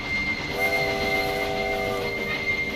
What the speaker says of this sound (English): Centre on the train, and let's go for a ride along, shall we?